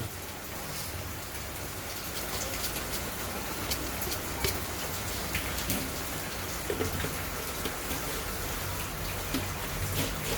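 Steady rain pours down continuously, a dense hiss of drops pattering on a surface with occasional louder splashes, no voices.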